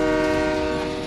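A Russian prisoner transport train sounds a sustained, loud, multi-tone horn blast over rumbling rail noise, brief and close.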